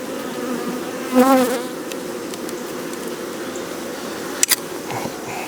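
Honey bee foragers buzz steadily around hives in an apiary, a close, continuous insect drone with one bee passing louder near the microphone and a brief tap near the end.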